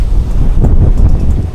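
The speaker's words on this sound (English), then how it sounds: "it's so windy out here" Strong wind buffeting the microphone at a clear lakeside carp fishing spot, a loud low rumbling roar with gusty swells and no talk.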